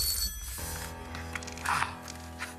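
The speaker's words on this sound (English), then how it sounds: "The banker's been making phone calls, Den." A telephone rings on the Deal or No Deal game show, a bright electronic trill that repeats a few times at moderate loudness over a low studio hum, with a brief voice in the background.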